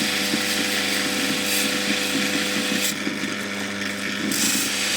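A grinding wheel cutting into a natural Ethiopian opal gives a steady, loud, continuous whirring grind with a faint rhythmic scrape, unbroken for the whole stretch, with no voices.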